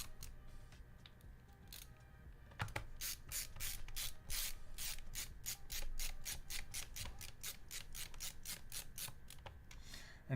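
Small screws being driven by hand into a gaming PC case, with a steady run of rapid ratcheting clicks from the screwdriver sounding close and clear and no talking.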